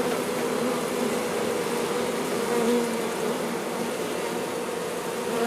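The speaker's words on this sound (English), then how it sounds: "So we got a few of the ladies doing some fanning." Honey bees fan their wings at the entrance of a newly installed hive, making a close, continuous buzzing hum that stays steady throughout.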